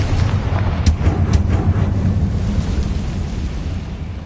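A Confringo blasting spell explodes in a Harry Potter video game, giving a loud, sustained rumbling blast with a couple of sharp cracks near the start.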